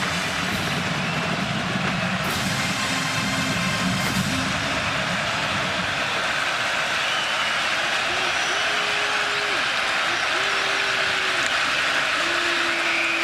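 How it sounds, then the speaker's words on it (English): Spartan Stadium crowd at a Michigan State versus FAU college football game roars on a big third down, a dense, steady wall of noise from start to finish with faint announcer talk underneath. "Spartan crowd is going to let him hear it."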